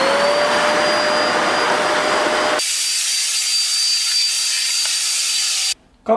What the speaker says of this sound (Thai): เครื่องดูดฝุ่นราคาประหยัดของทางเคมาร์หรือยี่ห้อ แองโก